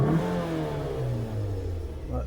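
Scion xB engine revving up and settling, a steady mid-pitched motor drone with falling tone, close and fairly loud; the vehicle has a bad fuel pump and check engine light for the O2 sensor.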